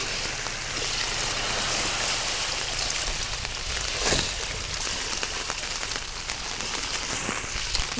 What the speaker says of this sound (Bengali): আবার খুব বৃষ্টি হচ্ছে খুব